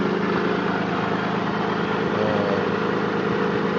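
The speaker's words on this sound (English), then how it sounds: "But for some reason it's misfiring." A Nissan 300ZX engine idles with a steady, loud, continuous drone; the misfire stumble is not distinct within the constant running sound.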